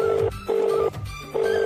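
A phone's ringback tone repeats unanswered, three steady bursts separated by short pauses, fairly loud with no talk over it.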